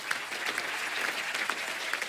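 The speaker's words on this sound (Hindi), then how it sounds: "एक बार जोरदार तालियां हो जाए।" A studio audience at a comedy talk show claps steadily and loudly for about two seconds, a dense, even wash of hand claps with no voices on top.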